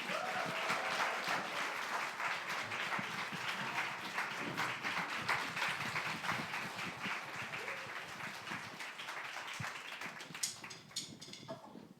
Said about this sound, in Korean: 뜨거운 박수로 맞이해 주세요